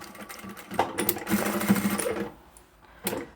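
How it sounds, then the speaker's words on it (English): A domestic sewing machine runs a quick back stitch on a small fabric pouch: a close, loud, rapid whirring burst of about two seconds, a pause, then a brief final run. "And as I come back up to the beginning, I'll just do a back stitch here as well."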